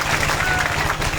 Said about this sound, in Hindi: आप लोग एक बार जोर से तालियां बजाकर उनका हौसला अफजाई कीजिए